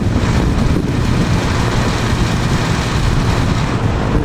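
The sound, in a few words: Penney's Lakewood box fan model SXC running noisily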